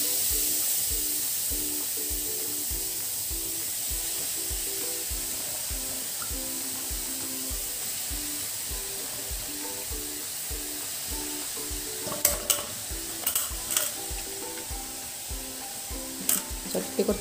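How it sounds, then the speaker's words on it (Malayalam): Grated carrot sizzling in a small pan while being made into carrot halwa, a steady soft frying hiss with rhythmic scraping strokes of stirring and a few sharper clatters near the end. "അതിലേക്ക് നമ്മൾ ഗ്രേറ്റ് ചെയ്ത് വെച്ച ക്യാരറ്റ് ഇട്ട് കൊടുക്കാം"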